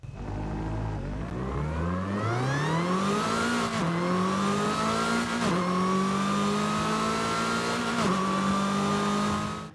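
Lotus 2-Eleven with a 1.8 litre engine in Forza Horizon 5 revs loudly and continuously, pitch climbing through gears with short dips at each shift, a close, strained engine tone throughout.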